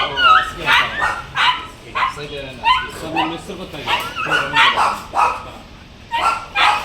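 Dogs and puppies at a kennel bark and yip in repeated bursts, close and fairly loud, while someone talks over them.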